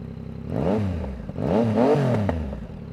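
Motorcycle fitted with a Two Brothers full exhaust revving twice in quick succession, each blip rising and falling in pitch, loud and close with no talking.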